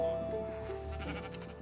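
Sheep bleating in the Minecraft video game, a short wavering bleat heard clearly over a faint low game background, with no talk over it.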